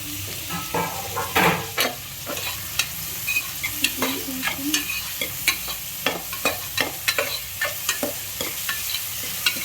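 Carrots and beans fry in oil as a utensil stirs them in a pan for North Karnataka mint rice, giving steady close sizzling broken by many sharp scraping and clattering stirs, with no talk.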